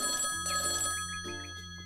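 A phone rings inside a Minecraft game world, a steady electronic ringtone with repeating bell-like tones that carries on through the whole short stretch at moderate loudness, with no talking over it.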